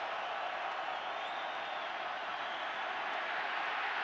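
A steady roar from a stadium crowd at an NFL game between the Bengals and Cardinals, loud and continuous without pause, a broad wash of noise from thousands of distant voices.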